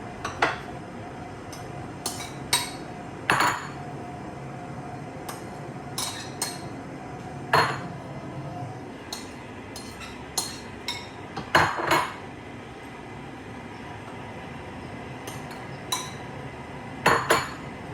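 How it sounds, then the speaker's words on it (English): Ceviche ingredients tossed together in a bowl, with sparse clinks and knocks of a utensil against the dish coming in irregular bursts over quiet room tone, close by and without talk. "And just mix everything together."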